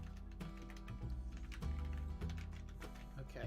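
Keys clatter on a computer keyboard in quick irregular bursts, close and steady, with soft voices faintly underneath.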